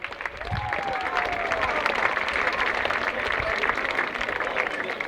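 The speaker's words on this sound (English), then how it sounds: "give them a round of applause." A crowd at a sprint race applauds the runners, a dense, steady wash of clapping lasting several seconds, fairly loud and continuous with faint voices and a brief whistle mixed in.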